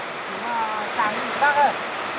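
Rain falls in a steady, even hiss close by, with faint voices talking quietly underneath.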